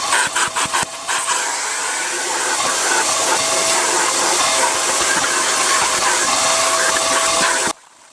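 A Karcher WD2plus wet and dry vacuum cleaner runs steadily with a loud, broadband whooshing roar. Several brief clicks and bumps come at the start, and the motor cuts off abruptly near the end.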